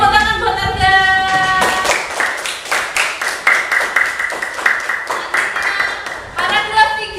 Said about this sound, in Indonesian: Kita beri tepuk tangan buat Anda.